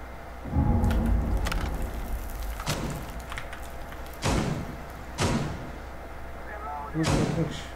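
Shotgun blasts in a first-person shooter, about five heavy booming shots spaced a second or two apart, loud and close, with people talking between them.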